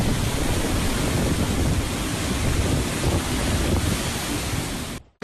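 Strong storm wind gusts roar continuously, a dense, loud broadband rush that blasts against the microphone without letup before cutting off abruptly at the end.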